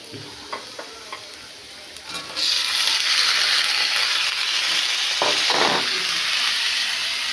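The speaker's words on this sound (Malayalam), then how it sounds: "ഈ പയറും കൂടെ ഇട്ട് കൊടുത്ത് വഴറ്റാം." Beans are tipped into a hot pan and sautéed: a few quiet clinks give way to a sudden, steady loud sizzle with stirring scrapes, close by and with no talking.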